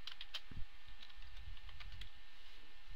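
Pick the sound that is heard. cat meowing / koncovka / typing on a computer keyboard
typing on a computer keyboard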